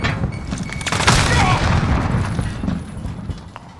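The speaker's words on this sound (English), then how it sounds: "Grenade out!" A grenade blast and a fusillade of automatic gunfire fill a Call of Duty Modern Warfare Domination match, with booming thuds and rapid rifle bursts rolling loudly and continuously before easing off near the end.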